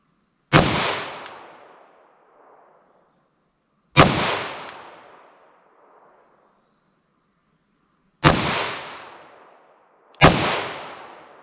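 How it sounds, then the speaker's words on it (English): Revolver shots fired outdoors at a range, four loud sharp cracks spaced a few seconds apart, each with a quick decaying echo tail, with silence between them. "That last shot just went off before I was used to it."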